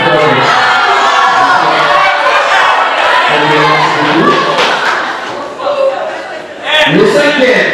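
Cheering crowd with applause and shouting at a school competition, loud and dense throughout, briefly dipping before rising again, with voices and an announcer's talk mixed in.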